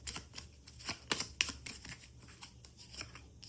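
Tarot cards are shuffled in quick, crisp riffling bursts, close and fairly loud, repeating unevenly over several seconds with no voices.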